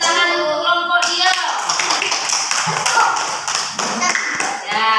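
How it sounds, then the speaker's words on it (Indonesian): A classroom of pupils claps for a group of classmates, a lively, uneven burst of hand claps with voices and chatter mixed in throughout. "kita kasih tepuk tangan untuk kelompok dia."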